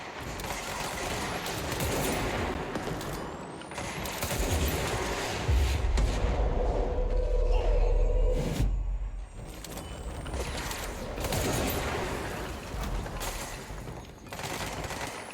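Lewis gun fire in the video game Control, heard as bursts of rapid automatic shots with mechanical clatter, a heavy boom partway through, and sustained game combat noise.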